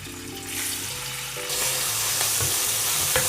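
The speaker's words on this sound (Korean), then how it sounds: "좀 물기부터 날리고 김치를 먼저 넣어 보겠습니다" Kimchi frying in cooking oil in a pan gives a steady sizzle with a bright, hissing wash. The hiss swells louder partway through and carries a few light clinks and stirring scrapes, with no voices.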